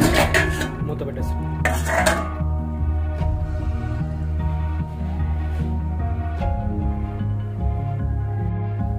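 A metal lid is set onto a cooking pot of Telangana-style mutton head curry, with two close clanks near the start over a steady background hum.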